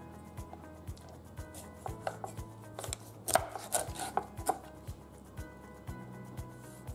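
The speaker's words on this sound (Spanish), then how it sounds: "En rodajas, ¿no? Mira cómo queda. Vamos a cortar otro más." A knife slicing a catfish into rounds on a cutting board makes repeated firm chops and thuds with scraping in between. The strokes fall at an uneven pace, close and moderately loud, and no one speaks.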